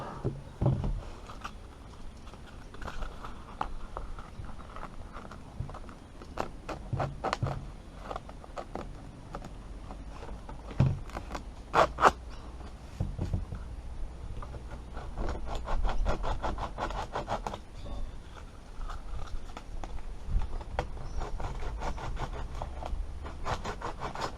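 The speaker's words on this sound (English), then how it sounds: "slide a piece of sandpaper down the separation in the joint, and using that in both directions, sand the inside" Sandpaper worked back and forth inside a wooden joint, giving soft dry scratchy rubbing strokes in irregular bursts, close and fairly quiet, with no voices.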